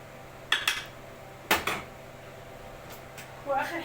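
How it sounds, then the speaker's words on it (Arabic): A spoon scrapes and knocks against a pot in a few short clanks while potatoes are stirred with garlic and salt, with a soft rustle at the end. "نقلب كده كله مع البطاطس"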